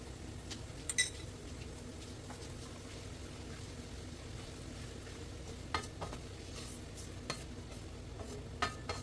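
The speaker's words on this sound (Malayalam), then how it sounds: "ആവശ്യത്തിന് ഉപ്പ് കൂടി ചേർത്ത് വഴറ്റിയെടുക്കുക." A spatula stirs and sautés spice masala with salt in a pan for beef pickle over low flame, a steady faint sizzle with soft scraping and occasional light clinks of the utensil against the pan.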